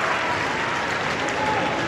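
Applause from a football crowd at a women's W-League semi-final, a steady, dense wash of clapping with crowd noise that holds evenly throughout.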